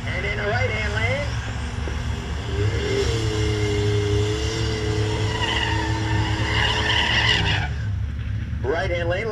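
Drag racing cars, including a 1990 Super Coupe and a 1987 Buick GN, rev and roar at a drag strip with wavering engine tones and tire noise, loud and continuous beneath an announcer's talk.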